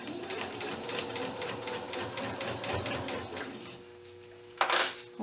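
A sewing machine runs in a quick, even chatter while stitching a paper-pieced quilt block, fairly quiet and close, ending with a short backstitch and a brief louder mechanical burst.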